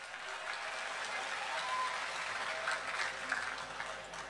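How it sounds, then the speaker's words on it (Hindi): An audience applauding at a Republic Day poetry recital and mushaira in Dubai, a steady wash of clapping heard from the room, faint and continuous throughout. "एक बार जोरदार ताली बजाकर हमें आदेशित करें।"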